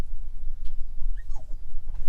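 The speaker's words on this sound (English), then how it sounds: "Oh, a bit of a whimper." A dog whimpers inside a dog cage on a Honda Pioneer 700 side-by-side outdoors, giving a few faint, high whines over low background rumble.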